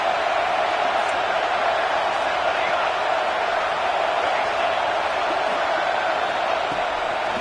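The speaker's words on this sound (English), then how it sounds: "This crowd bringing the energy and noise early." A loud stadium crowd at a Clemson college football game roars in a dense, continuous wash of noise that holds steady throughout without breaks.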